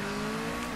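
A Rocket League car drives forward in the game, a steady engine hum with a faint tire hiss, close and continuous over a brief moment, no talking.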